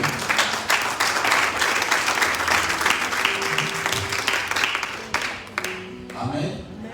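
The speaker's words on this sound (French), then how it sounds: "On peut acclamer fortement la parole de Dieu." A church congregation applauding loudly and steadily, dense clapping with some cheering that fades near the end as a voice begins to speak.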